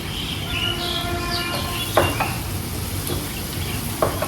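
Spices frying in a pan for a pesarattu curry, a steady close sizzle with a few sharp crackles, and faint chirps in the background.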